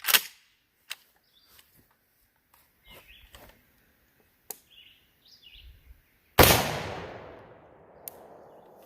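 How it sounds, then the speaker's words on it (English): A 12 gauge rifle slug fired in a penetration test, heard as one loud, close blast with a long decaying tail after several faint thumps and small handling noises, plus a single sharp tap near the end. "Now we'll be doing a 12 gauge rifle slug."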